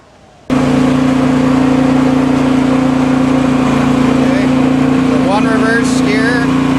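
An Ariens snowblower engine bursts to life after a brief silence and runs loud and steady with a constant hum, with some higher mechanical whines appearing near the end as gears are shifted.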